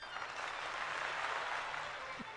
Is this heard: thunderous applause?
yes